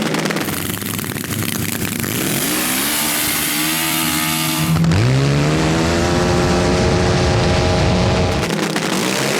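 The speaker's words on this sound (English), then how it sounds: "The compressed air machine is away first, and he's going to put the Hulk away as the chutes pop out." Supercharged and compressed-air drag sleds launch off the line in freezing conditions, a loud sustained engine roar with a rising whine that climbs in pitch as they accelerate away.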